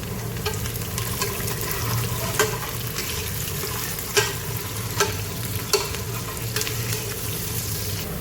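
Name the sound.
chopped green chili frying and being mixed in pan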